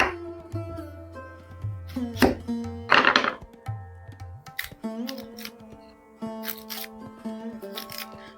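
A knife chops through vegetables on a board in a few scattered, crisp strokes, with quiet pauses and a faint background tone between cuts.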